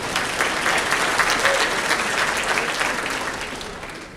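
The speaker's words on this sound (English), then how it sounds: "We can clap." An audience at an awards and honors presentation breaks into applause, a dense, even wash of clapping from a sizable crowd lasting several seconds and slowly tapering off.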